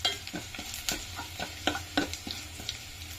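Onions and mustard seeds fry in a pan for Kerala tomato rasam, with quick, regular spatula scrapes and taps over a faint background sizzle, close and without voices.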